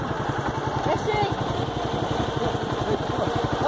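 A motorbike engine runs steadily close by, with a fast, even chugging pulse that holds at the same level throughout as the rider arrives.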